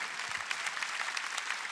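A church congregation at a Sunday worship service claps in a dense, steady burst of applause, moderately quiet and without voices.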